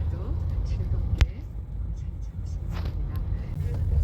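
Road traffic rolls past in a continuous low rumble of engines, with a couple of brief sharp clicks or knocks cutting through the steady drone.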